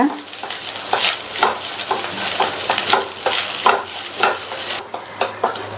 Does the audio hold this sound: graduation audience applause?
no